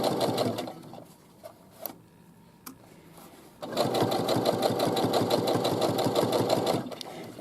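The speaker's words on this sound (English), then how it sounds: "I'm just stitching along, watching to make sure that this little toe is staying in the valley" A sewing machine stitches along the seam of a fabric casing, running in a short burst at the start, pausing for about three seconds, then running steadily and loudly for the last four seconds.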